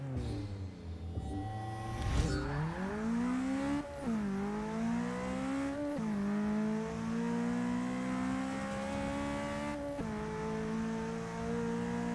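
In the racing game Forza 6, a drag-race car engine climbs through the revs from launch, with steady rising whines broken by several gear shifts and a brief tire chirp near the start, loud and close from an interior view.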